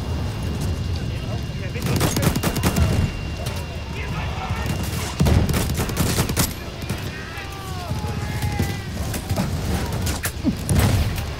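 Gunfire in the video game Battlefield 1, heavy and close, with sharp repeated bursts and booms scattered throughout, mixed with faint battlefield whistles and someone speaking over the shooting.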